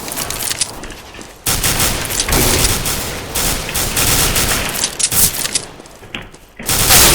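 Rapid bursts of gunfire from the video game CS:GO, with loud, dense volleys filling most of the stretch and brief gaps between them.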